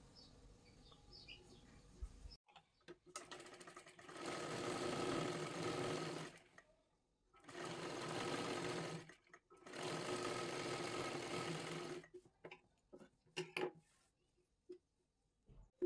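A sewing machine stitches a blouse seam with its lining in three sustained runs separated by short pauses, close and steady, with small handling clicks between bursts.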